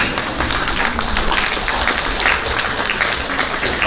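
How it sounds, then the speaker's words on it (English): A school-district teachers-of-the-year ceremony audience claps along with music, a dense, steady patter of hands filling the room at a fairly loud, even level with no talk over it. "Y'all are welcome to clap with the music if you want"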